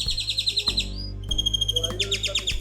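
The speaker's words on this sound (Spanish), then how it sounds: "En este momento hay una serenata tremenda de pájaros." Birds sing in the morning at Las Estacas natural park in Morelos, Mexico, with rapid repeated chirps and varied trills close by over a steady low background hum and no talking.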